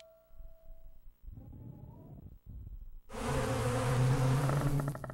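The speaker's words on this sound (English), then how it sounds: "A beehive." In the Wii game I Spy: Spooky Mansion, a beehive's bees burst into a loud, dense, continuous buzzing drone. Quieter rumbling game sounds play just before the buzzing begins.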